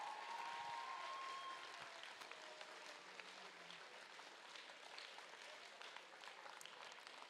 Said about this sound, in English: let's give all of these fantastic volunteers a round of applause